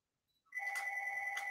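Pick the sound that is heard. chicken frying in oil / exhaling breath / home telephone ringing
home telephone ringing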